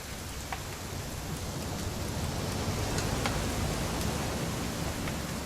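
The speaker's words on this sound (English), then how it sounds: "It's gonna rain the whole weekend" Steady rain in the video game What Remains of Edith Finch, a soft, even hiss of falling drops with occasional faint patters, fairly quiet and unbroken, with no voices.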